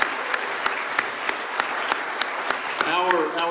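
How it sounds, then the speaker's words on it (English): A small audience at a chamber of commerce gathering applauds with sparse, evenly spaced, fairly faint claps, and a voice starts speaking near the end. "Could we give those folks a round of applause"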